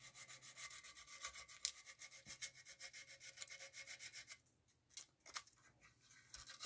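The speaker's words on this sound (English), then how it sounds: "I'm just going to lightly sand it" Sandpaper lightly rubs Milliput filler on a porcelain repair, giving a quiet, close, rhythmic scratching of quick back-and-forth strokes with a short pause near the end.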